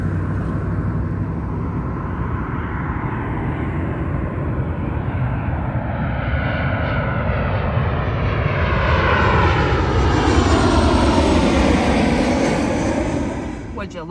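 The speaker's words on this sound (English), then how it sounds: "I see two planes ready to come in." Two airplanes come in low overhead, a loud, sustained broadband engine roar that swells and sweeps in pitch as they pass close by, then begins to fade at the end.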